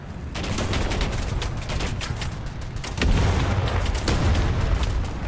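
Dense, continuous booming and crackling artillery fire in the War Thunder video game, with repeated heavy blasts, loud and close, swelling louder halfway through; no talking.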